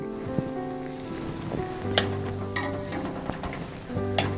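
Panch phoron, white cumin and asafoetida fry in hot oil for chana masala, giving a steady sizzle with occasional sharper crackles and pops, close and moderately loud, with no talking.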